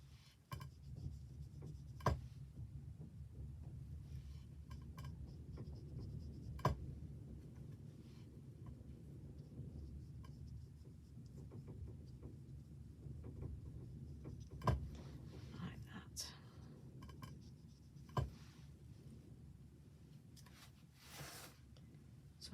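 A pencil shading colour onto patterned paper over a stamped image gives a quiet, steady scratching and rubbing, close and soft, broken by a few faint ticks and taps.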